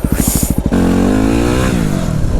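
A Yamaha WR250R dirt bike on muddy trails gives a few quick throttle blips, then a sustained loud rev as it pops a small wheelie, close and without voices.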